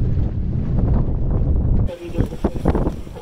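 Strong gusty wind on a sailboat moving at about six knots, roaring and buffeting the microphone, then dropping to a lighter rush with water and boat sounds while someone speaks.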